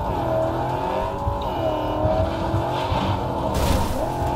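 Car driving in Cyberpunk 2077: a loud, steady engine drone with wavering pitch throughout, ending in a brief burst of hissy noise, no talk.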